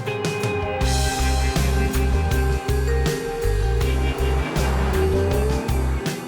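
An Aston Martin DB9 driving hard, its engine loud and close as it revs, with repeated gear changes cutting the note and a faint tire squeal.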